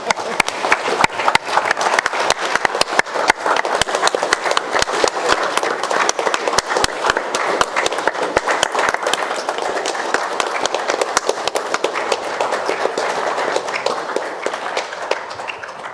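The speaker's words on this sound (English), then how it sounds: "I think we need a little applause." Sustained applause fills a city council chamber, a dense and steady crowd clapping that keeps up for many seconds and fades slightly toward the end.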